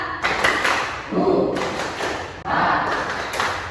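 A school group counselling session performs a 'tepuk' clapping routine, with loud, close bursts of claps and thumps in a few short rounds, mixed with voices chanting along.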